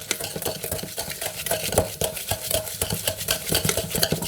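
A spoon works through a fairly liquid butter-based cake batter in a bowl, giving close, irregular scraping and tapping strokes at a quick rhythm, with no voices.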